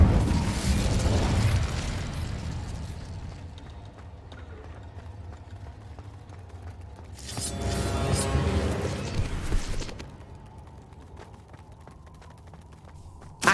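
Incendio fire spells cast in the game Hogwarts Legacy produce a burst of whooshing flame early on and a second louder fiery blast midway, set over low rumbling ambience.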